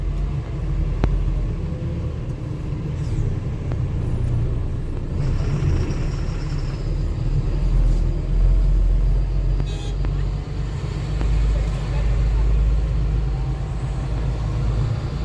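Cars sit idling in a long traffic jam on a road where a broken-down vehicle blocks the way, a steady low engine rumble of road traffic that continues for the whole stretch with faint passing noises on top.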